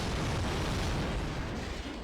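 A grenade explodes in 007 Agent Under Fire as a loud, dense, broadband blast that fills the whole moment with a rumbling roar.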